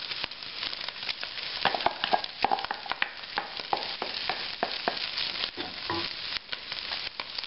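Andouille sausage and vegetables fry in a pan, sizzling steadily while a utensil stirs and scrapes through them in irregular clicks.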